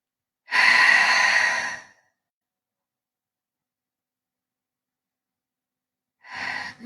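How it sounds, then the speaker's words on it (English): A slow, deep breath is drawn in during a quiet guided meditation, one long soft airy inhale followed by silence, then a second breath begins near the end. "Taking a nice deep breath in."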